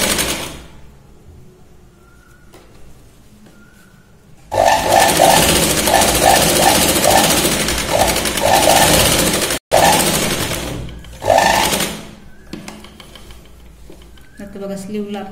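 A sewing machine stitching a tucked blouse runs in a loud, steady whirring burst of several seconds, then stops and starts again in shorter runs, while someone speaks in the quieter stretches between.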